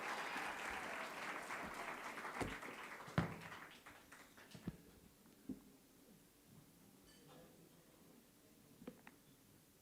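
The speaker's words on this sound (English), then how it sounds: "Give another round of applause, ladies and gentlemen. Prince Nemu Tanzela." Applause for Prince Nemu Tanzela at an awards ceremony, a dense spatter of clapping that dies away over the first few seconds, leaving a few scattered taps and claps in a quieter room.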